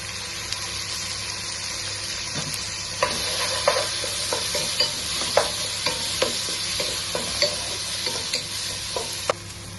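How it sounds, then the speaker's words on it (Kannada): Tomatoes fry with onions in a pan for dal tadka, starting as a steady soft sizzle before regular stirring clacks and scrapes set in, close and without talk. "ಈಗ 2 ಮೀಡಿಯಂ ಗಾತ್ರ ಟೊಮೆಟೊ ಕೂಡ ಹಾಕ್ತಾ ಇದ್ದೇನೆ."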